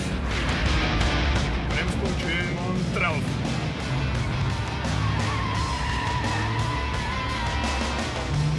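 A car at full throttle on a race track sends out a loud, steady engine roar. An excited voice talks over it the whole time.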